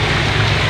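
Rain pours down outdoors in a steady, loud, dense wash of drops with no break.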